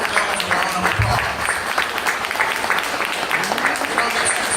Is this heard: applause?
yes